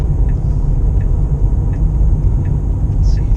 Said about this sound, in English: I put the car back in neutral here down this hill